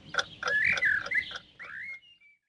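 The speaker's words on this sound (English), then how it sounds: "The sun is coming up and the birds are starting to sing." Birdsong at sunrise: a single bird gives a short run of clear whistled chirps and trills, near and fairly soft, ending in a thin sustained note against quiet.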